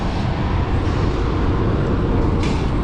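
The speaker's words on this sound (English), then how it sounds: "Train's coming." Low, continuous rumble of a train approaching or passing at some distance from a backyard vegetable garden, steady and unbroken for the whole moment with no talk.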